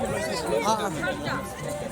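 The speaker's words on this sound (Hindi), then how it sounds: "देखिए मार्केट में कितना भीड़ है" Close crowd chatter at the crowded Benipur street market in India, many overlapping voices forming a steady babble with one nearer voice standing out.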